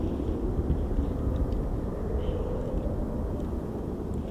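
Four F-35B stealth fighter jets pass overhead, a broad, steady low roar that holds for several seconds, heard from a distance with no one speaking.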